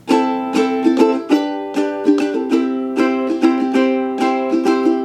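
An acoustic guitar strums the chord progression of a song, bright down-and-up strokes ringing close and clear with no voices.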